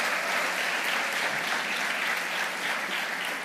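A crowd at a motivational seminar breaks into sustained applause, dense even clapping that holds steady throughout at moderate volume with no talk over it.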